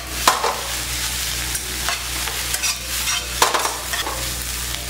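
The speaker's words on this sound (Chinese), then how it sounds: "最后葱绿下来，再快速拌炒一下" Pork and egg fried rice with scallion greens is tossed in a wok, with steady sizzling under repeated sharp scrapes and clinks of a spatula against the metal pan, close and busy.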